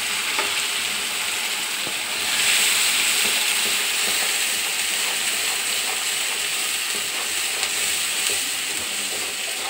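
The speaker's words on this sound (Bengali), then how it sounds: "মশলাটা ততক্ষণ পর্যন্ত কষাবো যতক্ষণ না মশলা থেকে তেল ছাড়ছে।" Spice paste for a Bengali jackfruit dish cooks in oil in a pan, hissing and sizzling steadily while being stirred, loud and close throughout with no talking.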